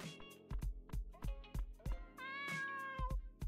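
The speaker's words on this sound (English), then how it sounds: "Pet the kitty." In the video game Dave the Diver, a cat being petted gives a short meow over bouncy game music with a steady, plucky beat. There is no talking.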